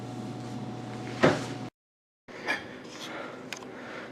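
A door sliding open inside a room, with a sharp rolling scrape and knock near the start, then a brief silence and a softer second slide with a small click, set against a low steady hum.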